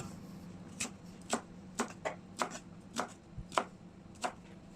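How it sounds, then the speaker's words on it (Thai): A knife cuts thick slices of pork belly on a cutting board, about ten crisp evenly spaced chops in a steady rhythm, close and clear against a quiet room. "การเตรียมหมูสามชั้น นะพี่บ่าวก็จะหั่นชิ้นหนาหน่อย"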